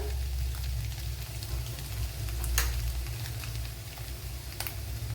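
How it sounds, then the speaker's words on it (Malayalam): Mustard seeds spluttering in hot oil for a Kerala-style egg curry make a constant close frying sizzle, broken by a couple of sharp crackling pops, with no voices. "ഇവിടെ കടുക് പൊട്ടിയിട്ടുണ്ട്"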